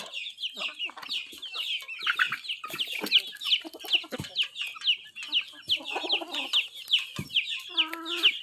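Desi hens cluck busily close by, a rapid string of short clucks with a few louder squawks and a drawn-out call near the end.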